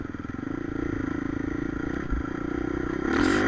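A dirt bike's engine putters steadily at low revs, then gives a short bump and clatter as it drops off a small ledge, followed by a louder burst of throttle.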